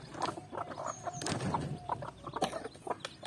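Chickens clucking close by as they eat grain scattered for them, short repeated clucks in an uneven rhythm over light background rustle.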